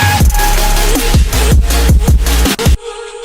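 Electronic dance music drop with bright laser-like synth zaps sweeping down over a heavy, pounding bass, loud and dense throughout, cutting off abruptly near the end.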